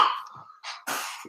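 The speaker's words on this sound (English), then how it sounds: "Oh, sorry, man, I've got this cough thing." A man coughs a few times in quick succession, sharp dry bursts close to the microphone separated by brief gaps, with nothing else heard.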